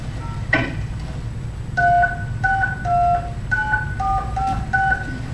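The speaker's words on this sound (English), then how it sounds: "Just dial like a regular telephone." A run of clean two-note telephone dialing tones keyed through a ham radio repeater autopatch, about a dozen short beeps in uneven groups over a faint background hiss, with no talking.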